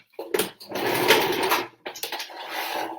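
A sewing machine runs fast and close while stitching a seam in hessian, in two bursts of steady whirring rattle separated by a brief pause.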